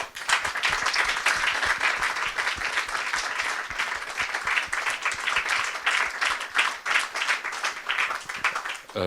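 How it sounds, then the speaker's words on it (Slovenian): Sustained audience applause at a talk and presentation evening in Ajdovščina, Slovenia: dense, even clapping from a room full of people that keeps going for several seconds at a steady level. "So vsi zaslužili še en aplavz po moje."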